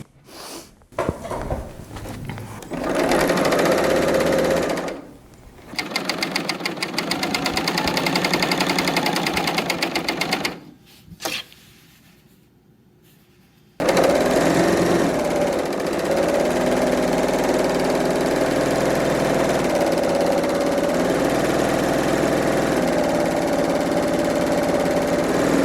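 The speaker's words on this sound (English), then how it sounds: "All right, off to serging." A serger overlock machine sewing fabric runs in rapid mechanical bursts, stopping and starting, then whirs steadily for a long stretch, loud and close.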